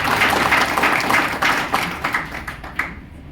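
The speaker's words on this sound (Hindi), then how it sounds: "बजा दो बच्चे के लिए ताली" An audience at an RCM business seminar in Latur gives a child a round of applause, a brief burst of clapping that thins out into a few scattered claps.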